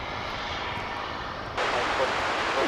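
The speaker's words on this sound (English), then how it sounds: "It's Japan Airlines Flight 12 from Haneda Airport in Tokyo." Japan Airlines jet arriving at Dallas/Fort Worth Airport, a broad distant engine roar that swells abruptly louder partway through and holds steady.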